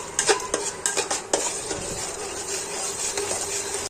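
Onion paste frying in oil in a pan for a doi katla fish curry, with a loud hissing sizzle and quick metal spatula clanks and scrapes at first, then steadier frying.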